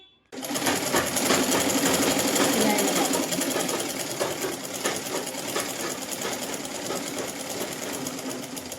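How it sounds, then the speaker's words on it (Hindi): Sewing machine stitching a straight seam along the edge of a chunni, starting abruptly with a loud, rapid, steady mechanical rattle that runs continuously and eases slightly in the second half. "इस तरीके से हम इसमें पहले किनारी पे सीधी सिलाई लगा के अच्छे तरीके से मोड़ लेंगे इसको"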